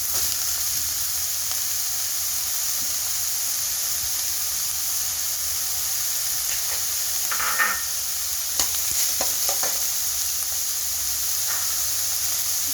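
Onion and carrot stir-fried in a hot pan for a veg momos filling, a constant hissing sizzle with a few brief scrapes and clinks of the spatula, no voices.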